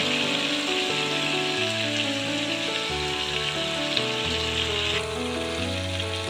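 Potatoes sizzle and fry in a pan for egg curry, a continuous close crackling hiss with steady oily spitting, a low hum running underneath and a slight drop in intensity partway through.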